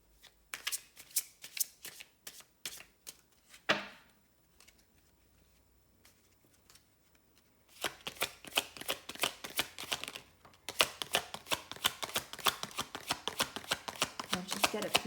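Tarot cards being shuffled by hand, bursts of quick crisp riffling and tapping, a brief pause, then long dense runs of rapid card flicks close up.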